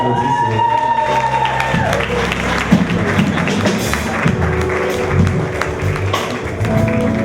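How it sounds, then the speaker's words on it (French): Audience at an evening poetry event applauding as a poet takes the stage, steady dense clapping with some cheering and background music, fairly loud throughout. "C'est pour ça qu'on applaudit."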